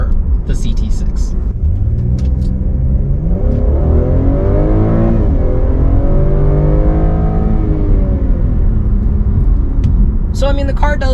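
A Cadillac CT6 sedan accelerating on the road, its engine note climbing in pitch through a gear, dipping at a shift, then rising again, loud and steady under someone talking throughout.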